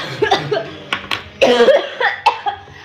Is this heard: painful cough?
yes